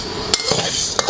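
Beans toasting and being stirred in a dry, hot pan or wok for mango sticky rice: a few sharp utensil scrapes and clinks against the pan over a soft, steady background, with no talking.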